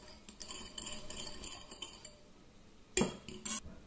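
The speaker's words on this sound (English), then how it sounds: "Mix it well." A spoon clinks and scrapes against a bowl while mixing corn flour, sugar and tinned cherry syrup, quiet close taps in short bursts with one sharper knock near the end.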